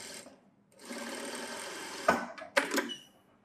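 A sewing machine runs in a steady, close burst of rapid stitching on a blouse, then stops and gives a few sharp mechanical clicks and thumps.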